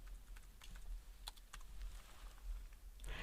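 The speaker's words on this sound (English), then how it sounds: "So again, we type the word select" Keys clicking on a computer keyboard as a SQL select command is typed, a quiet, irregular run of light taps with a short faster burst near the end, and no voices.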